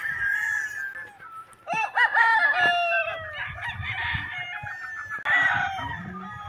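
Chickens and roosters on a poultry farm with pullets in ranges and pens crow and cluck close by, several overlapping calls and crows, with no talking.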